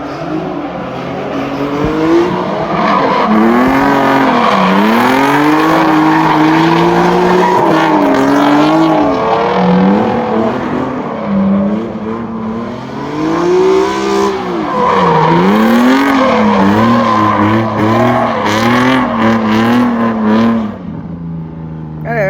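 Nissan GT-R cars drifting at a drift show in Dubai, engines loud and close, revving in long rising and falling sweeps throughout with brief dips, voices faintly mixed in.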